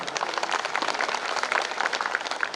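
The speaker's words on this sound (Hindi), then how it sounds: "एक बार सभी पेरेंट्स के लिए तालियां हो जाएं।" Parents at a school annual function are applauded by the crowd with a brief burst of dense, lively clapping heard on its own.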